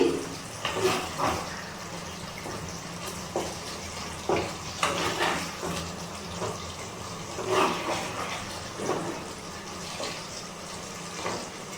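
Cauliflower korma with homemade ghee and garam masala being stirred in a pan, giving soft repeated scraping and wet sloshing strokes over a steady low background hiss, fairly quiet and close.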